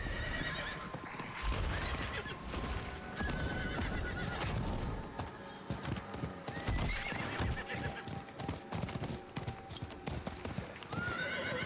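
Horse hooves clip-clop steadily in Diablo IV, a werebear riding on horseback, with whinnies and neighs over busy game music and effects.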